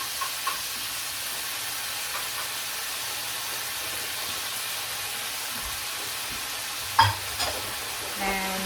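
Finely diced potatoes being cooked in a pot give a soft, steady sizzle and hiss, with a brief clatter of a utensil scraping the pot near the end, no one talking.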